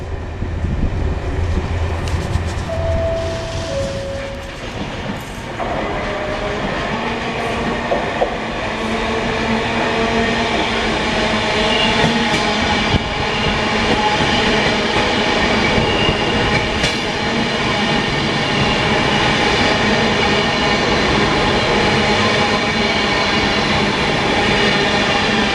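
A Class 68 locomotive hauls a freight train past, its loud engine drone and rumbling wagons continuing steadily for the whole stretch, with no voices.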